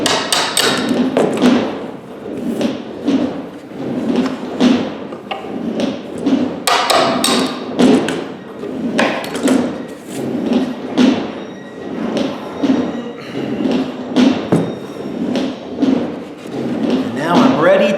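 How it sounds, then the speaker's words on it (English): A hammer taps pins out of a carved guitar top resting on an MDF sled, giving regular, evenly spaced knocks throughout with a steady rhythm close up. "Poke these pins out, because I don't need them anymore."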